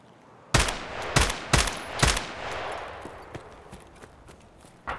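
Gunfire in the video game Escape from Tarkov: four loud, sharp shots spaced about half a second apart, then quieter scattered impacts and footsteps trailing off.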